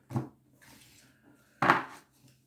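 A tarot card deck being cut makes two soft, dry card slaps about a second and a half apart in a quiet room, with faint shuffling between them.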